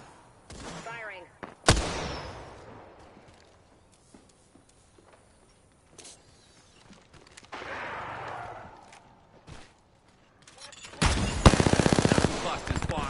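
Bursts of video game gunfire from a tactical shooter, with sharp volleys near the two-second mark and again near the end, separated by quieter stretches of scattered shots and movement.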